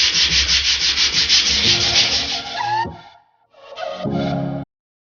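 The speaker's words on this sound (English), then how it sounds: "We are going to wet sand it." Motorcycle fuel tank being wet sanded by hand with 80 grit sandpaper, a close, loud, rhythmic back-and-forth rasp that pauses briefly, then resumes for a few more strokes.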